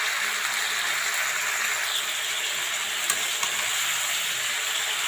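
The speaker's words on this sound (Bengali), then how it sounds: "আরেকটুখানি ভেজে নেব।" Boiled cauliflower stalks fry in a pan with a steady, dense sizzle and hiss that runs the whole time. A few faint stirring clicks come through.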